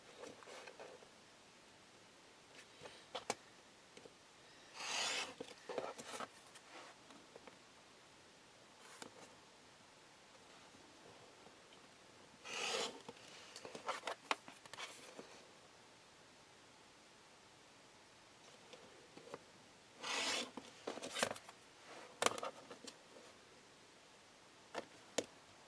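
A rotary cutter slices fabric squares along both diagonals, giving short, crisp cutting strokes and rustles in separate bursts over a quiet background.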